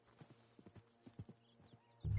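Horse hooves clip-clopping in an uneven series of soft steps in Red Dead Redemption II, followed at the end by a sudden loud, low burst like a snort or whinny.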